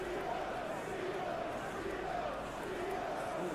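Crowd noise from a simulated football match in eFootball PES 2021, a steady roar of stadium cheering and chanting that fills the whole stretch at even loudness.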